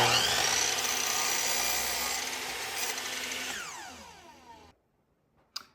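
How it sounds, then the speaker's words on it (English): A chop saw slicing the end off a wooden boat stem for a skin-on-frame row and sail boat: a loud whining cut that winds down, then silence and a brief knock. "I'm just going to go ahead and take this out to the chop saw and chop the end off."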